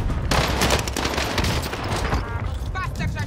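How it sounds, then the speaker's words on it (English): Continuous loud gunfire from an SMG in a military shooter game, dense crackling bursts throughout with game radio voices mixed in. "Those bastards are shooting at me."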